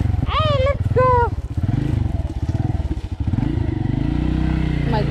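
A motorbike ridden close by roars and revs unevenly, while excited voices shout and call out over the engine noise.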